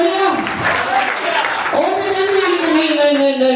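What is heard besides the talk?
congregation clapping hands in church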